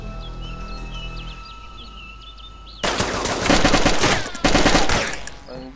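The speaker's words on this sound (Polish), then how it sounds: "Ostrzeliwują czerwony domek." Automatic gunfire at a red house in the DayZ video game, two loud rapid bursts following a quieter stretch with birdsong and a faint tone in the background.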